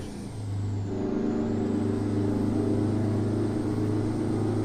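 Freightliner FLD truck engine in American Truck Simulator, hauling cattle, a steady deep diesel drone that rises slightly after the first second and holds loud and even throughout.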